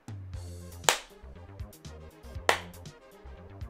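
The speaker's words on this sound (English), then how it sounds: "But like when I clap, you can hear the echo bouncing off the wall." Two sharp hand claps ring out indoors, each followed by a short reverberant decay off the room walls, over a steady low background with no talk.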